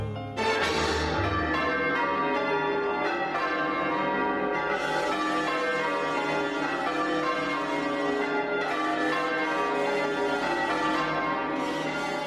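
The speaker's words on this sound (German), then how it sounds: "Sie scheinen gegen die Übermacht des französischen Empfindens anzudröhnen, die Glocken von Holy Trinity." Church bells of Holy Trinity, the Anglican cathedral in Quebec, ring loud and sustained, the overlapping peals and hum filling the whole stretch without voices.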